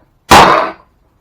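A single sharp, loud strike of a Malayas mallet on a leather stamping tool, with a bright crack that rings briefly and fades within half a second, with nothing else around it.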